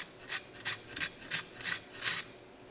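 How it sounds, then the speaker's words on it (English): Crispy grilled chicken wings crunching up close, about seven sharp, bright bites or squeezes in a steady rhythm, each one a short crackly burst with no talking over them. "here's another look at the beautiful wings, and you can hear the crispiness"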